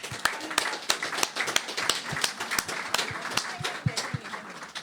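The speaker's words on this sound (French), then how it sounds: "on va applaudir" Church congregation clapping for a member's birthday during a Sunday service, a sparse group of individual hand claps with distinct sharp strikes in loose rhythm, moderately quiet and fairly close.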